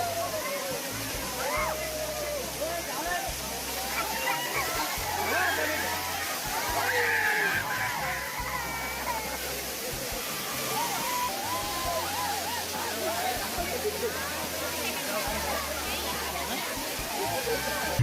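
Waterfall water rushing during heavy Telangana rains, a dense continuous roar of flowing water heard throughout with people talking over it.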